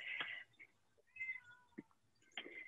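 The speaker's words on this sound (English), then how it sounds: "there is a cat meowing loudly outside my door" A cat meows loudly outside a door, three drawn-out, plaintive calls with pauses between them and a quiet background.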